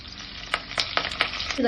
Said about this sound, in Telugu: ఆయిల్ వేసేసుకోవాలి అవాలు వేసుకోవాలి అలింపులకి శనగపప్పు వేసుకోవాలి